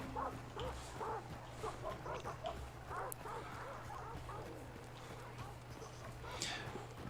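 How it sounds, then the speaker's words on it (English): Dogs bark and yip in a video game, faint and somewhat distant over a low steady drone, with a brief louder bark near the end. "Oh, them damn dogs. I gotta go this way. Avoid them damn dogs."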